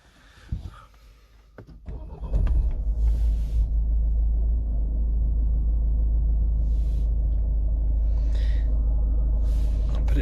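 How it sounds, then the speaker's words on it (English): A 2011 Ford Focus Titanium X with a 2.0 TDCi diesel and automatic gearbox starts by push button: a few quiet clicks, then the engine catches and settles into a steady, close, deep idle rumble. "Switch the car on. Push button start."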